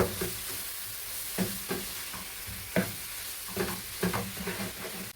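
Tomato frying in a pan for chicken curry, a steady sizzle broken by several scraping stirs of a spoon at irregular moments, close and fairly quiet.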